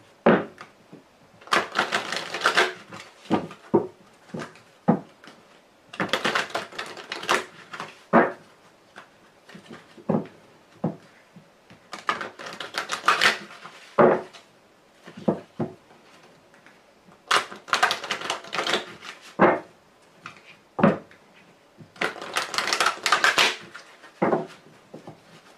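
Lenormand fortune-telling cards being shuffled by hand, soft papery riffles and taps in five or six clustered bursts separated by short quiet gaps, close and fairly faint.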